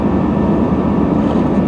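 A Pontiac Firebird engine idles as it warms up after months unused, with the air conditioner fan running, producing a steady loud low rumble and blowing hiss heard from inside the cabin.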